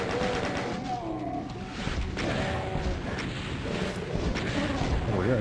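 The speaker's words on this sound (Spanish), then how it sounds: "Una explosión para los cocodrilos" Rapid bursts of explosive booms and gunfire-like blasts from the video game Doom, with rockets fired at crocodiles, dense and continuous, with a voice talking over the din.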